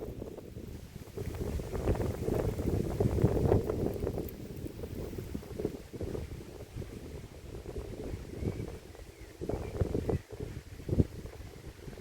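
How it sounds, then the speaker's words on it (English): Gusty wind buffets the microphone in uneven rushes, rising and falling over a low rumble, with occasional louder blasts near the end. "It has become suddenly quite windy."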